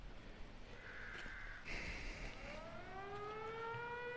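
A town civil defense siren wails from a distance in a horror audio drama, its pitch rising in a slow sweep over a faint forest background, with no voices.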